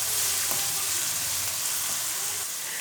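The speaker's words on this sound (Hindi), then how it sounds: "और प्याज को भी करेंगे हल्का सा फ्राई।" Onion and ginger frying lightly in a pan for chicken malai balls, a steady close sizzle and crackle running throughout with faint stirring scrapes, no voices.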